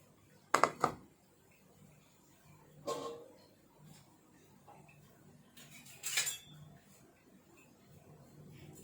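A utensil stirring glass noodle salad with crab sticks in a mixing bowl gives a few faint, scattered clinks and scrapes against the bowl, separated by quiet gaps.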